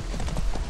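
Hooves of a horse in Far Cry 6 clopping steadily in a quick, close series of muffled thuds, heard alone.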